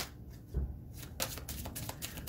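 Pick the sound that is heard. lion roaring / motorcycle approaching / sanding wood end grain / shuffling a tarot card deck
shuffling a tarot card deck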